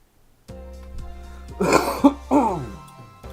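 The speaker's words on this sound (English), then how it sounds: "That cough has been brewing at the back of my throat for a long time." A single person clears their throat and then coughs a few times up close, giving short rough bursts over a quiet background.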